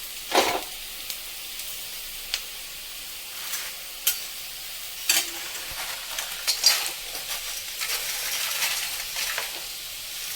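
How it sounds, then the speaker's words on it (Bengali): Biryani spices dry-roasting over a low flame in an iron kadai: soft, steady sizzle with intermittent scraping stirs and light clinks, close and fairly quiet, no talking. "গ্যাসের ফ্লেমটা লো করে 3 থেকে 4 মিনিট ভালো গন্ধ আসা পর্যন্ত আমরা ভেজে নেব"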